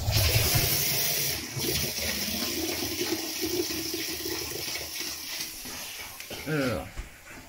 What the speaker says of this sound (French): sous un robinet, je tire de l'eau chaude